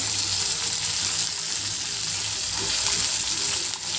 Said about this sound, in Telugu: ఎండుమిరపకాయలు ఇలా వేగిపోయినాయి కరివేపాకు వేసేసుకున్నాము